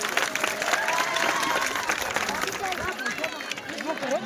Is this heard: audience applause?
yes